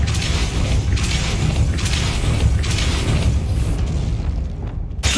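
The Depulso spell goes off in Hogwarts Legacy with a heavy booming, rumbling burst of game effects that carries on loud and dense for several seconds.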